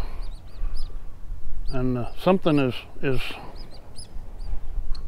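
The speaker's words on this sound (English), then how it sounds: "got the gulls all excited right out here" Several gulls call with harsh, honking cries in a short cluster at a lakeside, over faint outdoor background noise and a brief spoken word.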